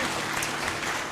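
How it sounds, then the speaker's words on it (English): An audience claps for three visiting professors at an academic event, a steady dense applause filling the short moment without a break. "Tapi overall kita beri applause lagi kepada 3 profesor kita."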